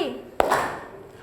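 A single sharp hand clap in a classroom ice-breaker game, a brief crisp smack cutting through a voice as she talks.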